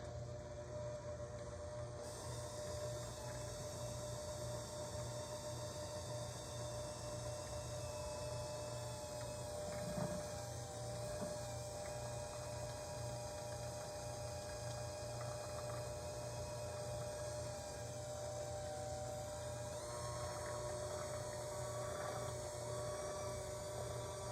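Electric hand mixer steadily beating a 14-ounce can of sweetened condensed milk into patriotic cheesecake filling, a continuous whirring motor drone close by throughout with a brief bump midway, no talking.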